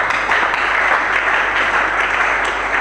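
A church congregation applauding in a large hall, a dense, even wash of clapping that holds steady at full loudness for the whole stretch without a break.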